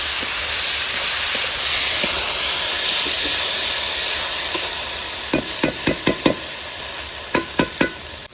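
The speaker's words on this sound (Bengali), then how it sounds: "এবার আদা রসুনের পেস্ট দিয়ে দেবো এখানে। ভালো করে কষে নেবে, 2 মিনিট কষে নেবে।" Ginger garlic paste fries with onion in a pan over a loud, constant hiss and sizzle, and a quick run of sharp scraping strokes from a spatula near the end.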